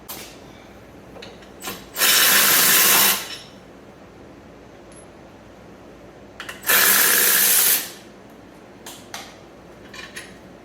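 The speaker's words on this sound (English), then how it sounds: "now let's remove the caliper with our E18" Tesla Model 3 front brake caliper bolts being removed with an E18 socket on a power tool, two loud bursts of roughly a second each a few seconds apart, with light clicks and handling noises between.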